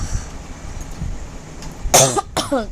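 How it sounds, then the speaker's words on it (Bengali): Light, dry coughs, first a brief throat-rasp then two short close coughs near the end, over faint room background. "একটু হালকা হালকা খুসখুসে কাশিও হয়েছে"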